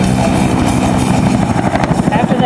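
A Bell AH-1 Cobra helicopter flies at an airshow, its rotor beating in a fast, loud, steady chop, with an announcer's voice running over it.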